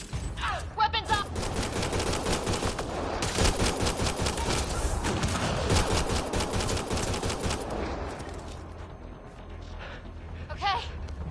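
Heavy sustained gunfire in a firefight in the video game Mass Effect Andromeda, rapid automatic bursts filling most of the stretch before easing off, with voices calling out at the start and end.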